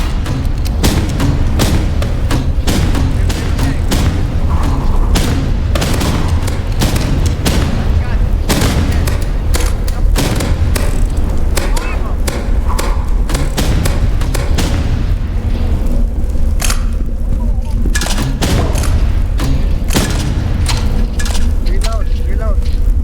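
Roblox The Rivals match full of RPG blasts and gunfire: dense, loud booms and rapid shots hammer on without pause while players talk over the action.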